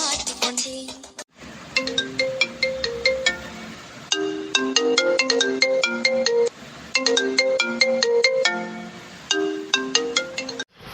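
A mobile phone plays a bright, chiming melodic ringtone for an incoming call. It breaks off briefly near the start, then loops its tune continuously, close and prominent, with no talk.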